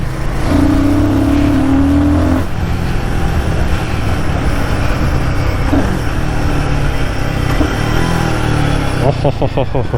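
A Royal Enfield Guerrilla 450 motorcycle engine pulls hard and loud as it accelerates past about 2500 RPM, its steady roar and rising tone continuous under a rider's voice.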